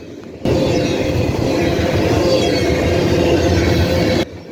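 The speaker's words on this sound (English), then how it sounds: "A set of old rail cars are coming up." A CSX freight train hauling a string of old heritage hopper cars rolls past close by, a steady loud rumble of wheels and cars that holds from start to finish of the pass.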